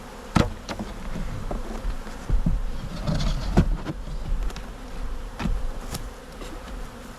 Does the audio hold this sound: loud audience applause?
no